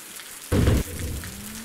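Rain falls in the video game Osiris: New Dawn, a steady hiss with a short, loud burst of heavier rumbling noise partway through, then a faint rising tone.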